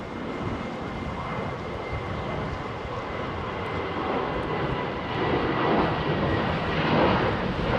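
A KLM airliner takes off from Heathrow's runway 27R, its jet engines a broad, steady, powerful roar heard close-up, holding loud throughout and swelling slightly toward the end.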